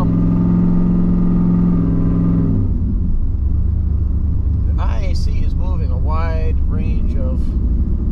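A third-generation Camaro Z28 engine idles with a loud, steady low rumble, its tone dropping after a couple of seconds, while someone talks over it.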